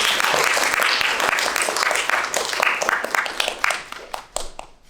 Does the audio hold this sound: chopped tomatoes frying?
no